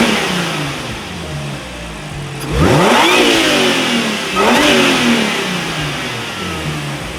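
Supercharged car engine fitted with an aftermarket intake, idling and then revved hard twice in quick succession, each blip rising to a loud whine before dropping back to a steady idle.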